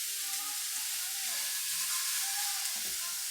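A steak fries in a pan with a steady bright sizzle and hiss throughout, and faint low tones sit underneath.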